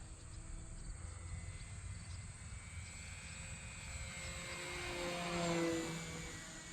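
A small Volantex Trainstar Epoch RC model airplane engine drones faintly at a distance, rising briefly as it passes closer, with insects chirping in the background.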